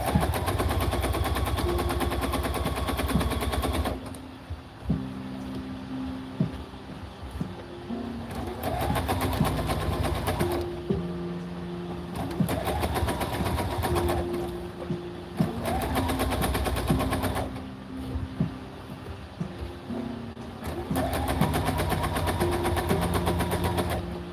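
A sewing machine top stitches a duster in a series of rapid mechanical runs, each a few seconds long and separated by brief pauses, close and clear with no speech.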